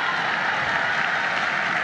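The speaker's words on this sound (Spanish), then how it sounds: "Oye, un aplauso para los argentinos." A festival crowd in Punta Arenas claps for the Argentines during a comedy show, a dense, even wash of applause that stays steady throughout the brief moment.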